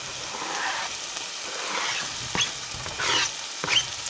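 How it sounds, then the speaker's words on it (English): Bacon sizzles and crackles steadily in a pan, with a few sharper pops and scrapes rising over the hiss. "my bacon is sizzling away"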